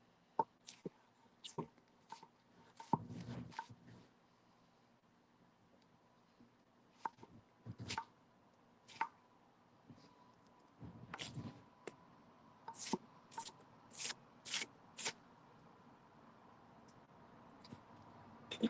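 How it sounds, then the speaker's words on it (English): A kitchen knife makes small, shallow cuts into an onion on a board, producing quiet, crisp clicks and taps in uneven bursts, some quick runs of several cuts, set against near silence. "Again, just making small cuts here. I'm not going all the way through the onion here"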